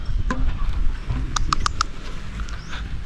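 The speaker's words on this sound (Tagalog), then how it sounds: "umuulan na" Light rain patters steadily outdoors in the Philippines, a close, even hiss with a few sharp drips and taps scattered through it.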